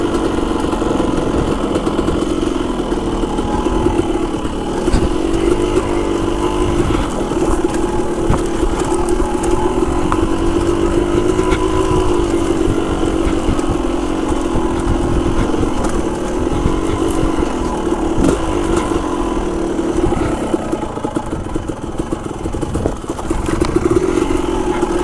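Motorcycle engines running lean on a trail, idling and revving in a continuous loud, close drone with slight rises in pitch and mechanical clatter.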